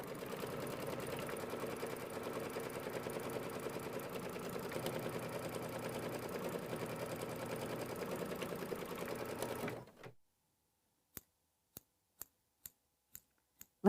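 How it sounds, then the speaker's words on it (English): A sewing machine runs a tack-down stitch over quilt batting on a mini quilt, a steady close mechanical whir for about ten seconds, then stopping, followed by a few sharp isolated clicks. "it's going to do a tack down stitch to hold the batting into place"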